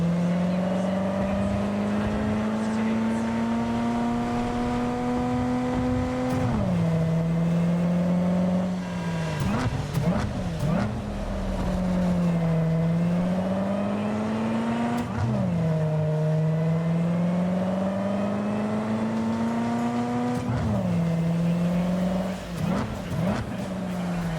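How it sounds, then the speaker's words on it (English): A deep, throaty naturally aspirated V8 car engine in the video game Cyberpunk 2077 drones steadily, its pitch dipping and climbing again with each gear change, loud and continuous throughout. "It sounds like an actual V8."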